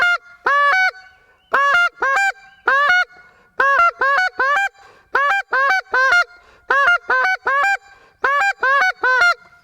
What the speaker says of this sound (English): Three different tongue speeds, 3 different honks.